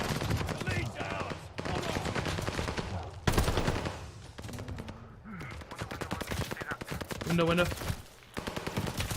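Gunfire erupts around a hardpoint objective in Call of Duty. Rapid bursts of automatic fire and single shots rattle on and off throughout, mixed with game audio and a player's voice speaking over the action.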